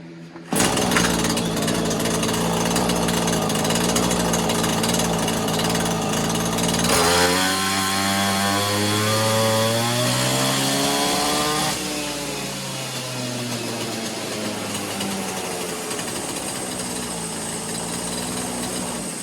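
A Neotec 843 43cc chainsaw, a clone of the Husqvarna 543XP, screams loudly and continuously at full throttle close up. Its high engine whine shifts pitch partway through as the RPM changes, and it runs alone without talk.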